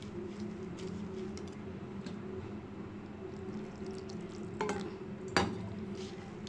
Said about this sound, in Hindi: अब जो है हम इसके अंदर दूध डालकर थोड़ा थोड़ा तो इससे हम शामिल करेंगे मिक्स